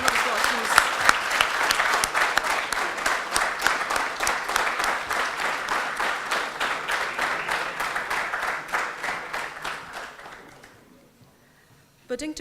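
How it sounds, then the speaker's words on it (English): A full room claps warmly at a consulting conclave, heavy and steady for about ten seconds before thinning out and dying away, followed by a brief noise at the very end. "Round of applause, please"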